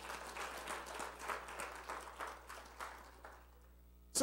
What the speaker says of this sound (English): Come on and give God a, a, a, an applause.